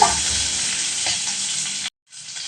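Onions and curry leaves sautéing in a pan for mango kuzhambu, a loud close sizzle with stirring that cuts out briefly to silence before resuming.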